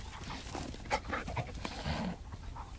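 Dogs out on a walk pant quickly and rhythmically close to the microphone, with a few soft whimpers and some faint rustling mixed in.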